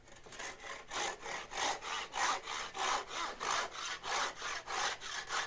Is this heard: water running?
no